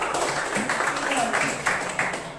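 Children clapping together in a fourth-grade religious studies classroom, a quick run of brisk group claps with rhythmic accents, fairly close and filling the room.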